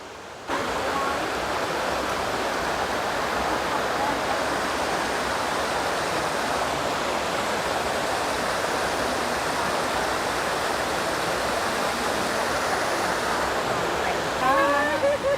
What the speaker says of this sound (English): It's not a waterfall, but it's water flowing up from that stream and it's coming down right behind me here.